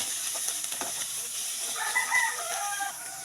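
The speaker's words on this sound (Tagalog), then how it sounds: "Haluin lang natin." Carrots and mushrooms being stirred in a hot pan while making sweet and sour dalagang bukid fish, with a soft continuous sizzle and faint scraping of the utensil close by, no talking.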